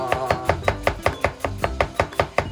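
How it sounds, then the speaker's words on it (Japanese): A kitchen knife slices a new onion thinly, about a dozen crisp, evenly spaced cuts striking the cutting board in a steady, close rhythm. "新玉ねぎ美味しい季節になりますので薄く切ってもうそのままいっちゃいますよ"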